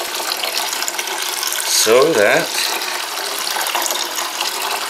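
Water streams from a jug raised above a Drinkwell Zen pet fountain, a close continuous splashing pour with a brief gurgling swell, and a voice talks over it.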